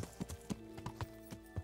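Horse hooves clip-clop at a brisk, even gait while riding in Kingdom Come: Deliverance, each fairly close hoofbeat ringing out over a faint background hum with no talking.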